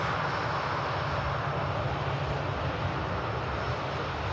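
A Loganair aircraft inbound from Belfast arrives at Manchester Airport, giving a steady, moderate engine drone at some distance that stays level without rising or fading.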